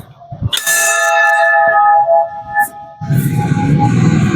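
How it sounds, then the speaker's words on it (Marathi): A large temple bell, one of two at the Reda Samadhi temple entrance, is struck with a bright clang, its ringing tones sustaining and slowly fading, followed by a second strike and low crowd murmur. "मंदिराच्या प्रवेशद्वारातच आपल्याला दोन भव्य घंटी पाहावयास मिळतात"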